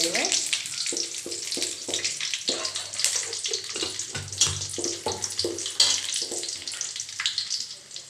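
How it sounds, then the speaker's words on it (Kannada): Cashews and raisins fry in hot ghee for rava laddu, giving a continuous crackling sizzle with small pops and spatters, close and fairly loud throughout. "ಅದಕ್ಕೇ ಅದೇ ತುಪ್ಪಕ್ಕೇ ಗೋಡಂಬಿ ಮತ್ತು ದ್ರಾಕ್ಷಿನ ಹಾಕೊಂಡು ಫ್ರೈ ಮಾಡ್ತಾ"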